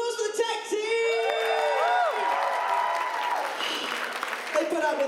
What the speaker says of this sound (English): A round of applause for the tech team!